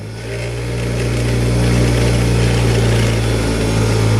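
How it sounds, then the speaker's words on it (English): A Tradesman Professional 6-inch bench grinder runs steadily with a loud, continuous motor hum and whine that swells slightly as it comes up to speed, with no talking over it. "It's called a Tradesman Professional 6-inch bench grinder."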